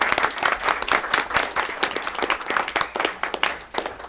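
A board meeting audience gives a round of applause, steady moderate clapping from a medium-sized group in a meeting room, even and continuous throughout.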